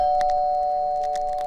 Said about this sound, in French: c'est la sonnette de la maison qui va retentir